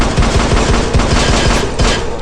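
Loud, rapid automatic gunfire in steady bursts, dense and close, with no voices over it, in the video game They Are Coming.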